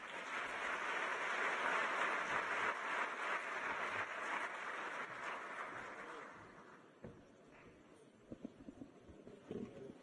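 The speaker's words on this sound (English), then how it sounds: "May we kindly give him a round of applause." A crowd at an opening ceremony applauds steadily for several seconds, a dense wash of clapping that thins out and fades, leaving a few scattered claps at the end.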